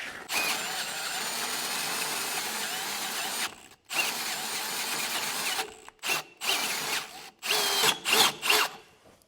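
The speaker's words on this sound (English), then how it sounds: "Now we have this drilled to 3/4 of an inch" A power drill boring a hole up to 3/4 inch in metal outdoors, a loud sustained whine for several seconds, then a series of short stop-start bursts.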